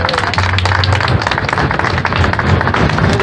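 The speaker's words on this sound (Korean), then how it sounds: "힘찬 박수 맞이합시다." Audience at an outdoor May Day workers' rally giving a loud, steady round of applause, dense clapping continuous throughout with some crowd voices mixed in.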